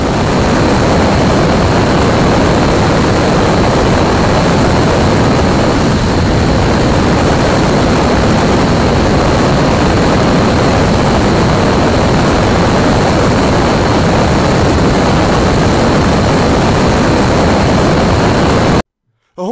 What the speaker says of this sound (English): Observe as our engineers will test our new codes and engines.